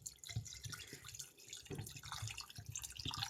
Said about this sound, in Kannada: ನೀರು ಹಾಕ್ತಾ ಇದ್ದೀನಿ. ಚಿಕನ್ ಮುಳುಗೋಷ್ಟು ಹಾಕಿದ್ರೆ ಸಾಕು